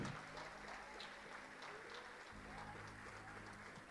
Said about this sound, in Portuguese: E dá uma salva de palmas para Jesus de Nazaré.